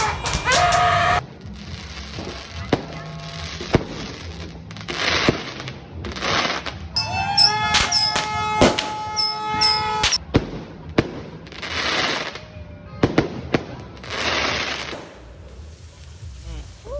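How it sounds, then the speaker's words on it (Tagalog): New Year's fireworks and firecrackers bursting around a neighborhood, with sharp loud blasts, a rapid crackling string of firecrackers in the middle, and scattered booms near and far throughout. "Siyempre, napaputok na din kami."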